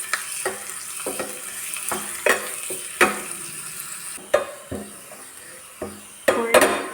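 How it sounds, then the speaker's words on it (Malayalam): Chopped shallots fry in hot coconut oil in a pan for a palak parippu curry, a continuous sizzle punctuated by repeated clinks and scrapes of a spoon stirring against the pan. "വെളിച്ചെണ്ണ ചൂടാകുമ്പോൾ ഇതിലേക്ക് ഒരു പിടി ചുവന്നുള്ളി അരിഞ്ഞത്. ഇനി ഇത് നന്നായിട്ടൊന്ന് മൂപ്പിച്ചെടുക്കണം"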